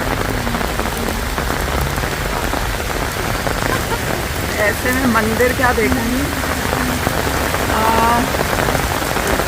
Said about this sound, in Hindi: इतना तेज़ बारिश हो गया